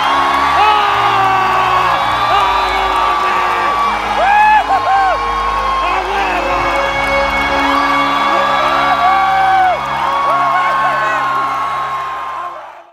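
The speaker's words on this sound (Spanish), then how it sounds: "Solo vean los gritos." Huge concert crowd at a show screams, whoops and cheers continuously at full volume, with sustained shrieks rising over a dense roar and music faintly underneath.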